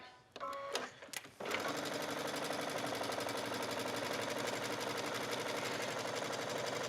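A sewing machine stitches a buttonhole on a knit A-line skirt waistband backed with fusible interfacing: a few brief starts, then loud, steady, rapid stitching that runs continuously to the end.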